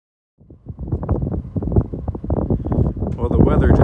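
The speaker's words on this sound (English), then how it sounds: "Got some snow and some pretty good wind going on" Strong wind gusting loudly across a winter campsite during snowfall, a steady roaring rush that builds and grows louder toward the end.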